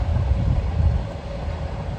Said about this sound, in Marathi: ट्रेनचा आवाज आलाय आणि बघू शकता किती जवळून ट्रेन जाते.